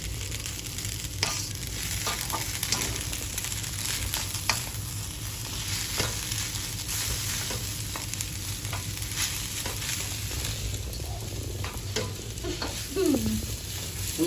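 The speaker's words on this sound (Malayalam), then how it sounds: "നൂഡിൽസ് നടുക്കൊക്കെ പോയിട്ട് നല്ലപോലെ ഒന്ന് മിക്സ് ആയിക്കോട്ടെ" Chicken noodles stirred and tossed in a hot pan, with steady sizzling and frying under repeated scraping strokes and short clatters, close and fairly loud, no talking.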